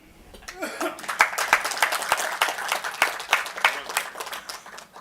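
Audience applause in a seminar hall, a dense patter of many hands clapping steadily for several seconds, moderately loud with a few stray sounds mixed in.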